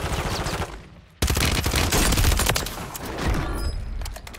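A battle rifle fires in the Warzone video game, with a burst, a brief lull, then loud, rapid volleys of shots close by.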